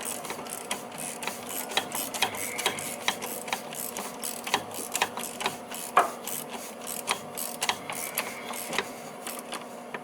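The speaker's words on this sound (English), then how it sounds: "And then I can use the box end 17 to tighten up the bottom one." A 17 mm box-end wrench tightens the bottom bolt of the rear motor mount on a 2008-2012 Hyundai Santa Fe with rapid, steady ratcheting clicks, close and moderately loud, with no talking.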